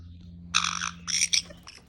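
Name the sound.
angry caique parrot squawking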